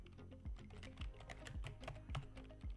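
Someone types on a computer keyboard in a terminal, a quiet, close run of separate key clicks in an uneven rhythm with no voices.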